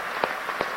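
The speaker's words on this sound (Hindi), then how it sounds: "तालियां बजा के स्वागत कीजिए," Crowd at a Madhya Pradesh startup policy launch event in Indore applauds to welcome the Prime Minister, a steady distant wash of clapping with a couple of sharper claps standing out.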